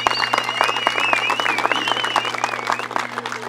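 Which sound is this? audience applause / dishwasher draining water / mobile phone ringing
audience applause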